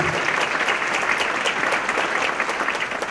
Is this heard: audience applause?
yes